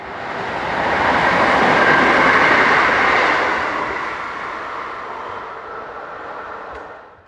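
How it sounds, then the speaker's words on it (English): An endangered Class 540 electric motor coach train passes, a broad steady rumble and rush that swells, holds, then fades away over several seconds, with no voices. "powered by endangered Class 540 electric motor coach number"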